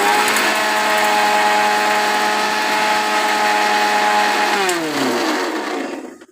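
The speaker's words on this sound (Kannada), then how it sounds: "ಇದೇನು ಸಾಸಿವೆ ಮತ್ತು ಮೆಂತ್ಯ ಹುರಿದಿರ್ತೀವಲ್ವ, ಸೊ ಅದನ್ನು ಮಿಕ್ಸರ್ಗೆ ಹಾಕ್ಕೊಳ್ಳೋಣ" A kitchen mixer grinder whirs loudly and steadily as it grinds roasted mustard and fenugreek seeds, then the motor pitch drops and winds down to a stop at the end.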